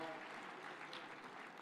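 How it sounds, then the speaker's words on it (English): Applause from the audience at the Devolution Conference 2025 in Homa Bay County, honouring a senator after his speech. It is a steady, even wash of clapping that carries through the whole short stretch at a fairly low level. "Another round of applause for Senator Kajwang,"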